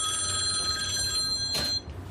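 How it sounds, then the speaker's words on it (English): A telephone bell ringing in a burger and fries restaurant, a bright sustained metallic ring that cuts off abruptly near the end, loud and close with no voices over it. "October 1st, the phone rang."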